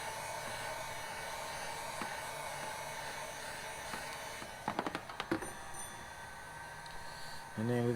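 A heat gun blows steadily while warming a carbon fiber headlight overlay on a 2020 Subaru WRX, producing a continuous close whooshing drone, broken near the end by a few clicks and a brief rattle.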